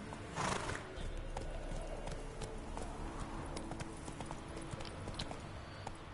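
Horse hooves clip-clop at a steady trot in a fantasy video game, with a whinny near the start, rhythmic hoof strikes continuing throughout at moderate volume over a soft ambient background.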